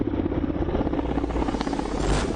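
Russian-built Mi-17 military helicopter with a steady, loud rotor and engine roar that holds without a break for the whole stretch, close by and heard on its own.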